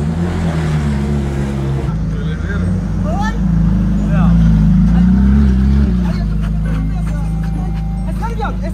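A Ferrari engine idles with a deep, steady low rumble that swells slightly midway, running beneath near-constant excited talking from people inside the car.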